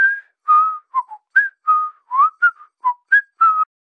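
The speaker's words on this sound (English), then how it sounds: "I also want this ghost to whistle Casper the Friendly Ghost team while he's in the shower." A ghost character in a game whistles the Casper the Friendly Ghost theme, a clear solo tune of short bright phrases with brief pauses, close and alone with no background.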